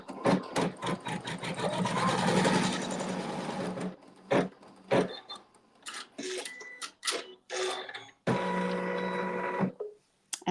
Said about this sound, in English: it's going to sew the seam